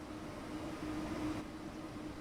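Steady low rumble with a faint hum from a BR403 ICE 3 (Intercity Express 3) high-speed train in Train Sim World 3 on the Kassel-Würzburg line, continuous and even throughout with no talk.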